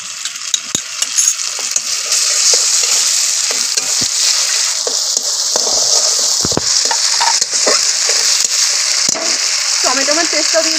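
Onion with ginger-garlic and spice pastes fries loudly in a pan for a catla fish kalia, a constant close sizzle broken by clinks and scrapes of stirring.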